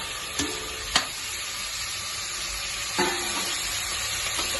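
Tomatoes and green chillies tipped into a pan of beef white curry sizzle steadily, with a few sharp clatters and stirring knocks over a constant frying hiss.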